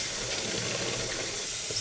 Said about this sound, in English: You need a bottle of water. This contains 2 liters of water, so just fill it up.